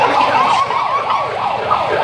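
A vehicle siren on a street-clearing operation wails in a rising and falling pattern, loud and close, sounding continuously for a couple of seconds over faint traffic.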